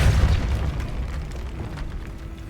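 The Depulso force spell in Hogwarts Legacy, cast in a decaying catacomb, lands as a loud booming impact that hits at once and then fades into a low rumbling tail.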